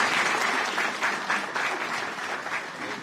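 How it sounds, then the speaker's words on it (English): A crowd at a live ceremony applauds after a performance, dense sustained clapping with slight swells, moderately loud and close, with only a trace of voices. "Let's give another round of applause"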